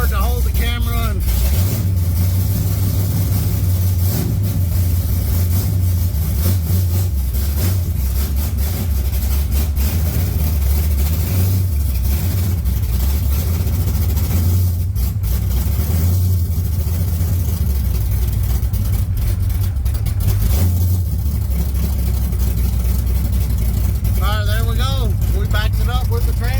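A 1980 Trans Am V8 idles loud and rough close by, with a deep rumbling throb that swells through repeated blips of the throttle during warm-up while someone talks over it.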